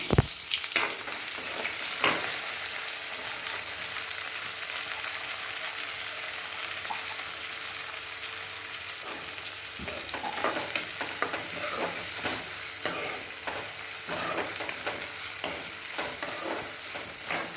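Steady sizzling of onions sautéing in a hot pan for a coconut milk crab gravy, with occasional scraping and stirring clicks, continuous and fairly close.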